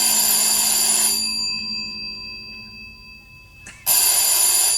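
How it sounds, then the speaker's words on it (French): A telephone bell rings loudly and close, one long ring that stops, a quiet gap, then ringing starting again at the end. "vous n'entendez pas le téléphone?"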